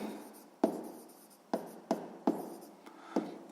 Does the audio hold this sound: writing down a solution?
yes